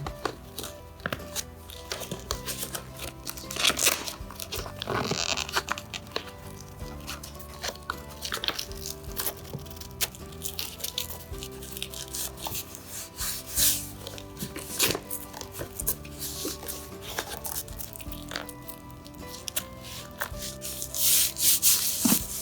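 Hands fitting the corners of a seat cover onto a 2012 Polaris RZR seat, producing steady rubbing, tugging and tapping of fabric and plastic in irregular close-up bursts throughout, with no talk.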